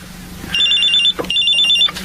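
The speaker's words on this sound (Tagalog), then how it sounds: "Oh, may tumatawag sa cellphone." Cellphone ringing with an incoming call, a steady electronic ring tone in two bursts with a short gap between them, close and fairly loud over a low hum.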